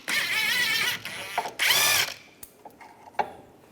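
Power tool with an 18mm socket removing the rear shock absorber bolt on a 2004-2010 BMW X3 during a coil spring replacement, two loud whirring bursts followed by ratcheting clicks, no talking.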